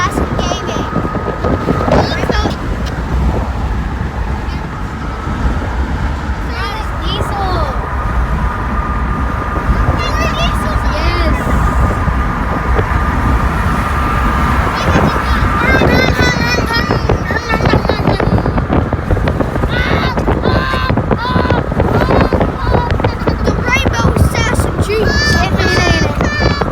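Steady wind roars and buffets through an open car window on a drive home from the pool, loud and continuous throughout, with children talking and shouting over it.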